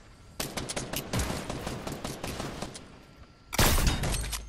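Video-game gunfire from a sniper in a shooter match, a dense burst of rapid cracking shots lasting about three seconds, then a louder, heavier blast near the end, close and loud with no talk.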